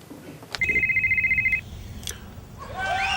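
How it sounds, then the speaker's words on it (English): A telephone rings with a warbling electronic tone as a call is dialed, one sustained ring burst of about a second, followed by faint clicks and a rising chirpy line tone. "Obama Girl, can you dial Jesse Ventura for me?"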